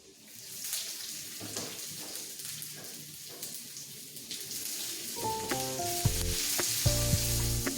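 Hot oil sizzling in a cooking pan for an evening snack, as a steady close hiss that grows busier and crackles with pops and clatter in the later seconds.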